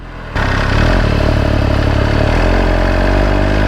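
An MV Agusta F3 800 RC sport motorcycle engine cold-starts with a sudden catch after a brief pause, then settles into a loud, steady, close idle with a rough mechanical clatter.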